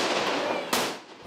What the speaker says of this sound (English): fireworks are thrown in